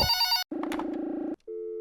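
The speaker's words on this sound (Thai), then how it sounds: "มีโทรศัพท์เรียกเข้า" A telephone rings in the Just Cleaning video game, a loud electronic ring in two clear bursts followed by a steady tone, with no talk.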